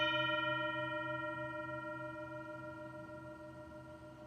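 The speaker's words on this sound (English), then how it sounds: "We're going to listen for the beginning, middle, and end sound of the bell." A mindfulness bell rings once with a bright, sustained tone rich in overtones, starting clear and slowly fading away over several seconds, heard alone in a quiet room.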